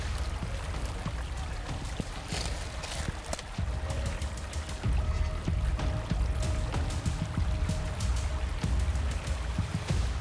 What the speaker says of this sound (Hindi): सामने एक नदी थी जिसकी जलधारा की ध्वनि हमें मंदिर से यहां खींच लाई थी।